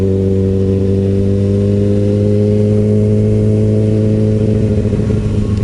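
A Kawasaki ZX6R motorcycle engine revs hard and steady, a loud continuous mechanical drone with strong low harmonics that climbs slightly in pitch near the end. No voices are heard.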